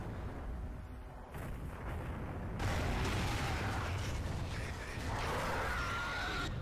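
Shotgun blasts and other gunfire in Gears of War 3 multiplayer Beast Mode, a dense barrage of rough bursts and booms that grows louder after the first couple of seconds, with almost no talking.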